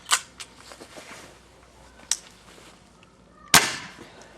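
A single sharp crack from an Air Arms Pro Sport .22 air rifle firing an Acupel pellet during chronograph testing, loud and close, preceded by a few faint clicks and small handling taps.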